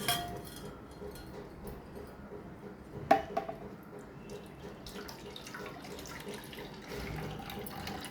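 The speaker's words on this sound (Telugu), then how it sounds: "దీంట్లో కొంచెము వాటర్ వేసుకోవాలండి" Water pours into a mixer-grinder jar while bottle gourd juice is being made, a running, splashing trickle with a brief louder knock partway through, heard alone without talk.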